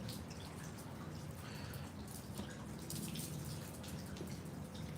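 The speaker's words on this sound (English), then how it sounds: "at least we could enjoy the sounds of the raindrops" Soft, steady patter of raindrops falling close by, a continuous faint wash of drips with no voices.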